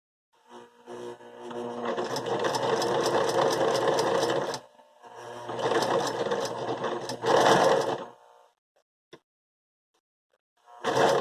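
A sewing machine fitted with a weighted presser foot stitches test fabric in two long bursts of rapid clattering, then a brief final burst after a short pause, with no talking.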